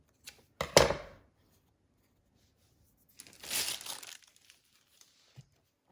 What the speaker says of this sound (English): I'm gonna take my bag and I'm gonna cut the corner